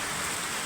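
Heavy monsoon rain in a village falls as a steady, dense hiss with no breaks or other sounds.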